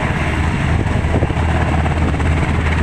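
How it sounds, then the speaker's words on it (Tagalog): A training helicopter flies overhead near an airport by a highway, its loud, steady rotor roar and engine drone filling the clip without a break. "Helicopter dito."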